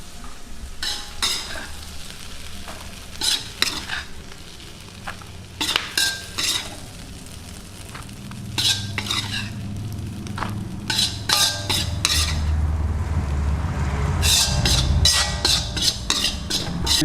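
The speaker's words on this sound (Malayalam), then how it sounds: "നമ്മൾ ചട്ടിയിലോട്ട് പകർത്തുകയാണ്." Clam pepper fry, Kerala toddy-shop style, is scraped and spooned from a pan into a clay pot, giving repeated close scraping and clinking strokes over a low sizzle that grows louder toward the end.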